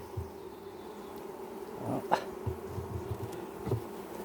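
A bee swarm being shaken out of a hive box after being taken from a wall, buzzing steadily close by in a continuous drone, with a few brief knocks and thumps.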